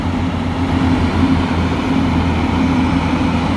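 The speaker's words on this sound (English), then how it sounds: "that noise you can hear is a Scammel contractor warming up" A Scammell Contractor heavy tractor's diesel engine rumbles steadily at idle while warming up at a steam fair, a deep continuous drone with a low throb, fairly close and unbroken throughout.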